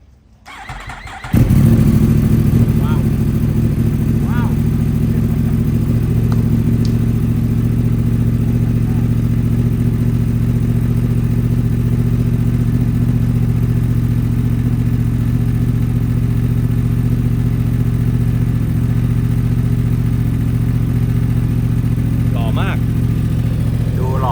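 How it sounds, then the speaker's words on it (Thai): A 2020 Yamaha R1 motorcycle with about 9,700 km sits idling steadily as its engine warms up, a loud, even rumble running close and unbroken throughout, with faint chatter or clicks now and then. "สตาร์ทวอร์มเครื่องแป๊บหนึ่งแต่เมื่อเช้าผมก็วอร์มเครื่องไปรอบหนึ่งละ"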